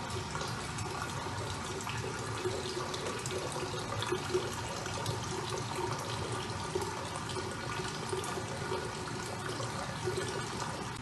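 Water drains steadily out of a permeometer column into a collecting container in a lab, making a continuous, faint splashing trickle with no voices.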